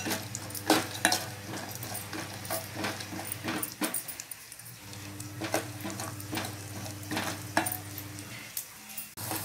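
Lentils hit hot oil and ghee in a pan and sizzle steadily while preparing pudina upma, with scattered utensil clinks and stirring scrapes over a low continuous hum, close and moderately loud.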